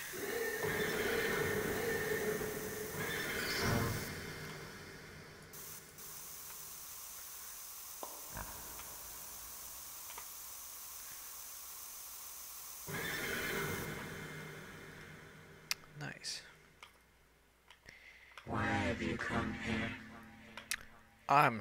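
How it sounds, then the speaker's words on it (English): A horse neighs and whinnies loudly in long, shrill calls, with hoof clops and hissing sounds between them, and a voice speaking near the end. "Horse noise."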